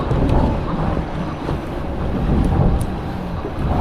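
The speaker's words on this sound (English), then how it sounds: "I wasn't expecting this much wind, as you can tell right there" Strong wind buffets the microphone on a fishing boat out on the water, a loud, steady roar with low rumble throughout and no talking.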